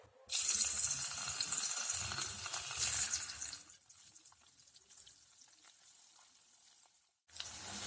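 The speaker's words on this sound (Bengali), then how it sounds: "তেলটা গরম হয়ে গেছে। এবার আমি এর মধ্যে পনিরগুলো ছেড়ে দিচ্ছি।" Paneer pieces drop into hot oil and sizzle loudly at first, the hiss easing to a quieter crackle before a brief silence and a fresh burst of sizzling.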